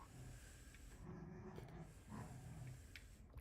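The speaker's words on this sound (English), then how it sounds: "Sorry about my dogs. Hopefully you can't hear that." Dogs playing indoors, producing low, rumbling playful growls in a few bursts that are faint and somewhat distant, with no speech over them.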